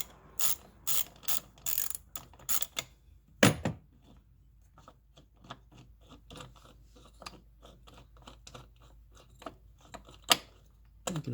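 A ratchet wrench clicks in quick bursts while turning the supercharger belt tensioner bolt on a Honda Prelude, with a sharp metallic clank between sets of close, crisp ratcheting.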